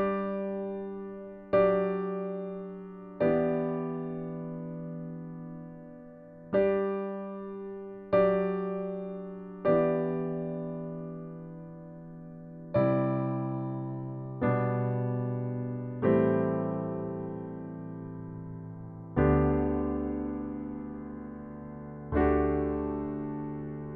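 Solo piano plays the opening bars of a song, gentle sustained chords struck one at a time, each decaying slowly before the next, calm and unaccompanied.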